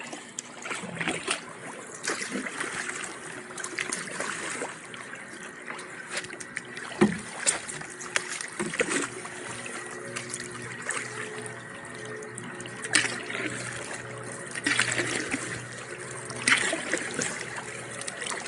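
Quiet kayak paddle strokes dip into the Willamette River with the blade buried softly, giving gentle splashes and trickling water in a loose rhythm, accompanied by light outdoor ambience.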